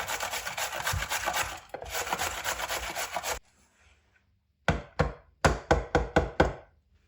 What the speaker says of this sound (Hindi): तो ये 1 गाजर हम बीच में डाल देंगे, इसको भी आपने कद्दूकश करना।